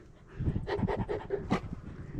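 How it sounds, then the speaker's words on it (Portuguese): Two small dogs pant quickly and softly at close range for a couple of seconds on a hilltop outing, with no voices. "Dois cachorrinhos."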